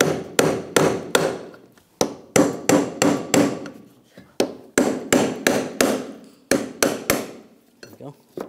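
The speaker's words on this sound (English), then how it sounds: "If you don't have one, you just use a brass punch. Just get in here and tap with a hammer." Quick bursts of close metallic hammer taps on a brass punch against a fuel pump lock ring, several strikes in rapid clusters separated by short pauses.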